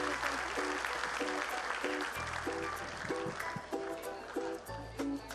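Applause from an audience at a school event for a middle school coordinator and her team, steady clapping mixed with a repeating musical pattern and low bass notes underneath.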